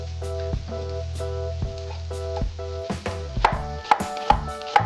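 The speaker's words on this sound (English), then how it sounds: "I'm dicing up a white onion to toss into our risotto" A knife dicing a white onion on a board, quick rhythmic chops close by, speeding up and getting sharper toward the end, over a soft sizzle of butter in a pan.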